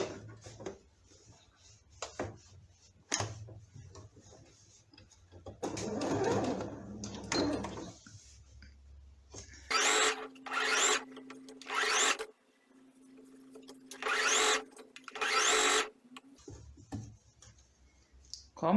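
Home sewing machine stitching a seam on a baby's elephant fabric toy, bursts of rapid mechanical clatter alternating with clicks, handling of fabric and someone talking between runs.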